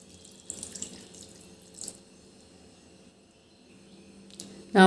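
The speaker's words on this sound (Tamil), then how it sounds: "இப்போ கொஞ்சமாக அதில் தண்ணி சேர்த்து ஊற வச்சுக்கலாம்." Water poured from a tap onto rice flakes (aval) for soaking in a home kitchen, faint intermittent splashes and trickles over quiet room tone, ending in a brief louder burst, with no talking.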